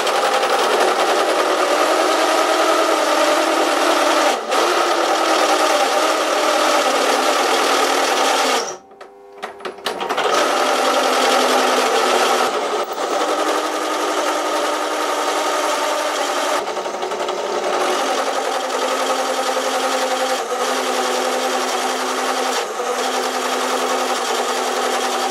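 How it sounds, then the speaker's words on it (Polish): A Parkside PTBM 500 bench drill with a weak motor bores through a workpiece with a carbide bit, a loud, steady mechanical whine and grinding chatter that briefly drops out once and then resumes. "na tej mojej wiertarce udało mi się to wywiercić"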